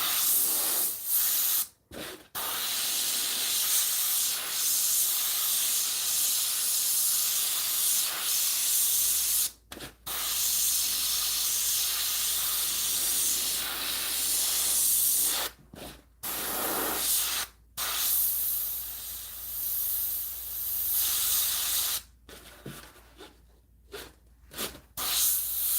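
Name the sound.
airbrush spraying paint on a hat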